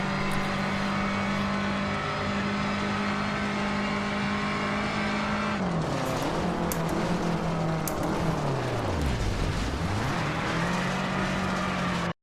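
A rally car's engine in the Richard Burns Rally sim game drones at a steady high rev, then rises and dips sharply as the car slides and slips on snow, loud and close with no voices.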